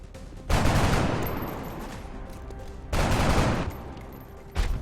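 Gunfire from the video game XCOM: three loud bursts of rapid shots, near and sharp, each trailing off into a lingering rumble before the next volley.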